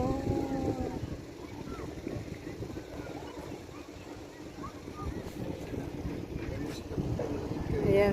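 Wind gusting across an open park, a steady low rumbling buffet against the microphone that swells slightly toward the end, with faint voices in the background.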